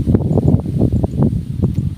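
Wind gusting through a rice paddy, a steady close buffeting rush with rustling swells and soft thumps of wind on the microphone, no voices.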